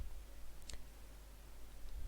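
A single sharp computer mouse click sounds once while working in AutoCAD, a brief crisp tick against a quiet, faintly hissing room background with no speech.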